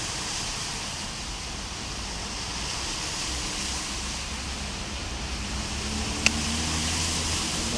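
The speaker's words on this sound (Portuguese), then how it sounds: "Uma chuvinha rapidinho." A heavy rain downpour in Goiânia makes a dense, steady hiss of falling water with a constant roar throughout, and a single sharp click lands near the end.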